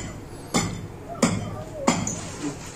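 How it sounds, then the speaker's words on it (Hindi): Big hammer breaking out floor tiles, three heavy, evenly spaced impacts about two thirds of a second apart, sharp and close with ringing cracks. "इसीलिए हमने ये बड़े हथौड़े से काम लिया है"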